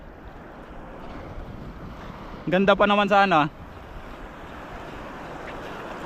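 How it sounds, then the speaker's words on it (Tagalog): Wind and churning water from strong waves rush steadily around a moving boat in the rain, with a brief stretch of speech partway through. "Lakas ang alon dito eh"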